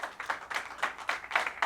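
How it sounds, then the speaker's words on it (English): A small audience applauds the runner-up pair at a doubles bowling event, with scattered, fairly quiet clapping in uneven bursts across the whole short stretch. "A round of applause for Don Weatherbee and John Maffeo"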